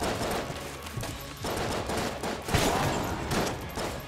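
Rapid gunfire from the video game Enter the Gungeon rattles on steadily in dense bursts, loud and continuous with a few heavier shots standing out.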